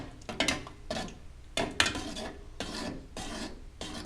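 Cornstarch dissolved in water being stirred into already boiling liquid in a pot to make a glaze for sweet bread: repeated rhythmic scraping strokes against the pan, close and fairly loud, with no voices.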